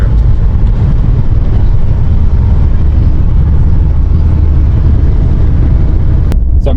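Fiat 124 Spider driving along, a steady loud rumble of engine and road noise with wind buffeting throughout, a brief sharp click near the end.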